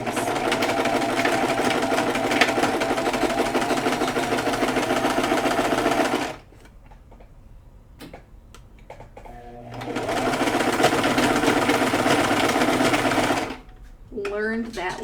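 A sewing machine stitches elastic into the corners of a piece in two long, steady runs of rapid buzzing, separated by a quiet pause with handling noises, and a voice speaks near the end.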